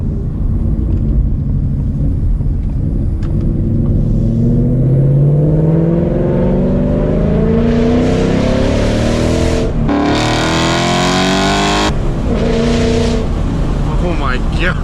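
Ford Mustang GT with a Corsa Extreme exhaust pulling hard on a backroad with the windows down, a loud close engine roar rising through the gears with a sharp shift, as voices talk over it.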